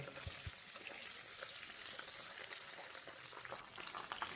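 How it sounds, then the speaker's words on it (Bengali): Pabda fish frying in hot oil in a pan, giving a steady, close sizzle that holds at an even level throughout with no talking. "এপিট ওপিট উল্টে হালকা সোনালি করে মাছগুলো ভেজে নিতে হবে।"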